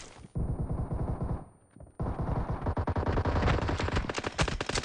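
Pistol gunfire in a team deathmatch shooter video game played in a room map: rapid, loud bursts of shots, a brief pause, then a dense continuous volley of overlapping gunfire.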